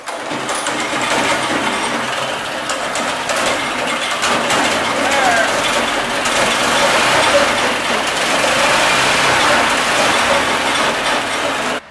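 A small go-kart engine primed with starter fluid roars loudly and roughly throughout, a dense, steady racket close by that cuts off abruptly at the end.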